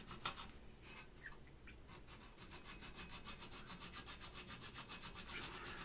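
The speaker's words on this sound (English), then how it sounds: "we're just going to take our time and start filing stuff down." A hand file working on mechanical keyboard parts for an Alps SKCM Orange switch build, faint scraping strokes that settle into a fast, even rhythmic back-and-forth rasp, close and alone.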